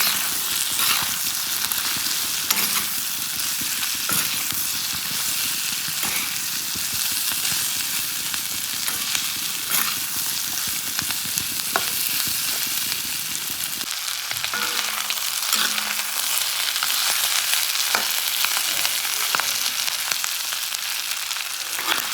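Fish head and intestine fry with potatoes in a pan in a Manipuri kitchen, a long continuous crackling sizzle with scattered sharp pops and occasional scraping stirs, close and even throughout.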